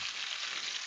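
Potatoes fry in hot oil in a pan, a steady close sizzle with bright crackling spatter and no voices.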